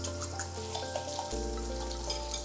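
Bacon frying in a pan for a breakfast frittata, a soft, steady sizzle with light crackles, heard alongside a low hum and faint kitchen clatter.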